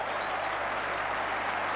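A football crowd at The Den applauds steadily at a Millwall versus Arsenal Division 1 match in 1989, a dense, continuous wash of clapping that holds at an even, loud level throughout with no break.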